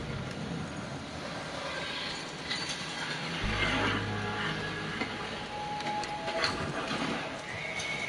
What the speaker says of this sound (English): Stupid horse is in the way.